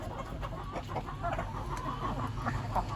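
Several chickens cluck softly in a coop, a continuous busy low chatter filling the air, close and steady with no talk.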